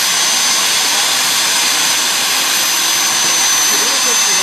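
A power tool cutting 16 gauge sheet steel gives a loud, continuous, even whine-and-hiss that holds steady throughout without a break.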